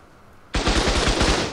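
Rapid automatic gunfire from a weapon in the video game Ark Survival Evolved, a loud continuous burst of closely spaced shots starting abruptly after a quiet moment.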